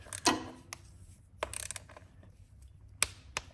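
A torque wrench set to about 90 is tightened on a Harley-Davidson Road Glide derby cover, giving a few sharp, sparse metallic clicks spread over a few seconds, with soft ratcheting handling noises in between.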